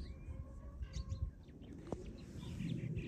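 Birds gathered around a farm where duck and goose food is put out give faint, scattered chirps and tweets over a low outdoor background.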